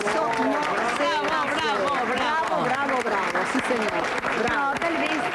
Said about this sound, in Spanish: Sole, yo te quiero brindar un aplauso